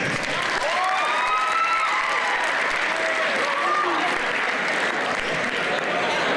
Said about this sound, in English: Please give a round of applause for my man